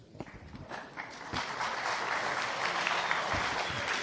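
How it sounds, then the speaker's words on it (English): A conference audience claps for a speaker about to present on SaltStack and self-healing systems, scattered claps at first swelling into steady, moderately loud applause across the room. "you haven't even done anything and you get applause"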